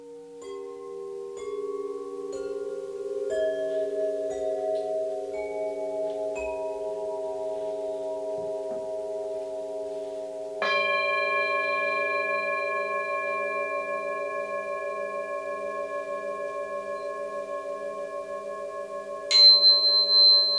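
Gong in a sound bath, sustained metallic tones layering and building in pitch, then a fresh strike renewing the ringing shimmer near the end, played alone without voices.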